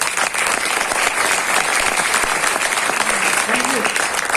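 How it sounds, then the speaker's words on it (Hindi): An audience at a motivational training session claps vigorously, a thick continuous burst of applause, with a brief voice emerging near the end. "मतलब आपकी अच्छाई की तो तालियां हैं।"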